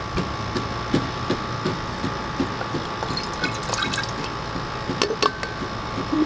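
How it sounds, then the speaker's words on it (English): A quarter cup of gasoline is poured into a jar, a faint trickling and dripping of liquid with scattered small clicks and taps against a quiet background. "I'm going to take this and pour that 1/4 of a cup in this jar."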